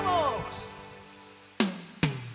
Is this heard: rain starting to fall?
yes